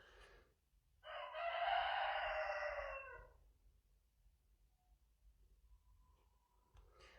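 A rooster lets out one loud, close cock-a-doodle-doo lasting about two seconds, then quiet with faint background noise.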